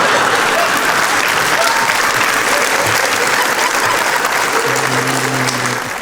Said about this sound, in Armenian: Ծափարենք Նատալին մի հատ իր տեսքի համար